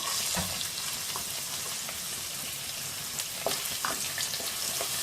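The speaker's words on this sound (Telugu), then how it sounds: "ఇవి కొంచెం ఫ్రై అయిన తర్వాత క్యారెట్ ముక్కలను వేసుకోవాలి." Green chili and carrot pieces frying in a pan over medium flame for egg fried rice, a steady close hiss of oil with scattered crackles and a few stirring scrapes.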